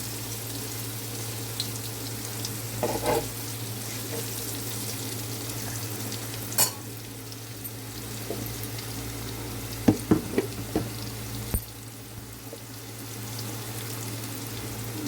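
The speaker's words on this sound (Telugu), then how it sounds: "గుడ్లు కొంచెం వేపు తీసేస్తాను ఫ్రెండ్స్" Eggs fry with onions in a pan with a faint, constant sizzle under a low steady hum, broken by a few brief scraping clicks.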